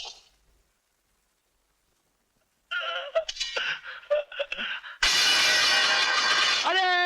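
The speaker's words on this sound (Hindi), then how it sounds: "अरे सारा का सारा दूध गिर गया।" A pot of milk drops and spills in a loud, sudden crash with a bright clattering splash, following a stretch of silence and then short, excited voices.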